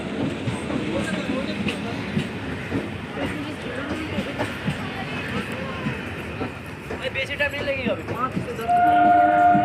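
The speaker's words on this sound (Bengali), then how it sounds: "ট্রেন আসতেই আমরা ট্রেনে উঠে পড়লাম" A Kolkata circular rail train rumbles into a station, its steady rolling noise swelling to a loud, squealing close as it draws up, with voices talking over it.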